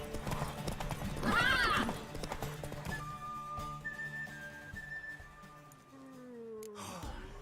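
In the video game The Witcher 3: Wild Hunt, hooves clatter in a quick rhythm as a mare runs, then whinnies loudly; a whistle tone and a brief exclamation from a voice come through.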